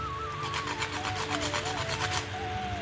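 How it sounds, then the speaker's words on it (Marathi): Fresh nutmeg is grated for sweet jaggery poha, a rapid run of close scraping strokes across a grater with a soft rasping rhythm. A tone in the background rises and falls, and nobody speaks. "थोडंसं जायफळही किसून घालणार आहे मी याच्यामध्ये"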